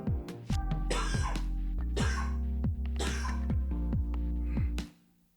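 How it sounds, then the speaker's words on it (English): Repeated coughing bursts, several close, harsh coughs spaced across a few seconds over a steady low hum, then it fades out, outdoors during a disc golf tournament round. "Excuse me, had to just cough there."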